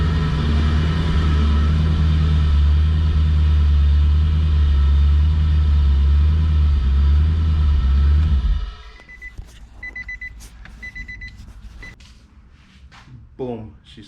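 A V8-swapped Infiniti G35 idles loudly with a deep, steady rumble for several seconds, then cuts off abruptly, leaving quieter shop sounds and a voice speaking.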